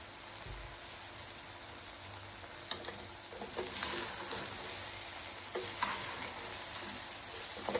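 Vegetables frying with salt in a pan for vegetable pulao: a faint, continuous sizzle broken by occasional light clinks and scrapes of stirring, heard close and alone.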